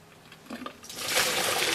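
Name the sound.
draining water off cooked lasagna noodles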